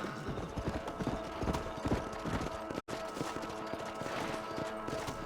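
A horse gallops steadily across open country in Red Dead Redemption, its hooves beating a fast, continuous clip-clop rhythm close by, with dense game ambience and music underneath and one brief dropout partway through.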